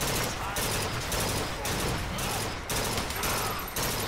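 Dense, continuous gunfire in Bioshock Infinite, a sustained fusillade of rapid shots with a few brief gaps, loud and close, overlaid with game effects and a faint voice.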